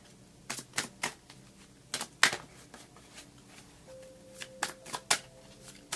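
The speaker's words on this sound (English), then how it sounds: "let me just pick the 3rd card before I go on to explaining some more" Tarot cards are drawn and shuffled from a deck, giving close, crisp flicks and snaps in irregular bursts against a quiet room, with a faint brief tone partway through.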